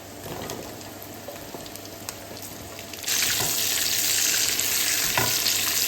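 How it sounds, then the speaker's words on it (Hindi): Onions and carrots sizzling in a hot pan as they are stirred, a steady crackling fry that grows louder and brighter midway, with occasional scraping of the spoon. "चलिए अब इसमें डालेंगे प्याज और गाजर।"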